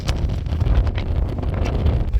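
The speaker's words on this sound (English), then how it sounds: "I'm gonna have to get moving because this wind's ludicrous." Strong wind buffets the microphone with a constant low roar and rumbling gusts throughout, with no other clear sounds.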